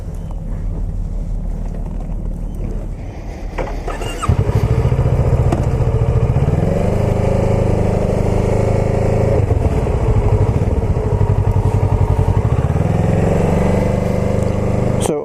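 A Kawasaki ER6F Ninja 650 motorcycle idles, then its engine note jumps at about four seconds as riding begins, holding a loud, close, steady drone that rises and falls through gear changes, with no voices.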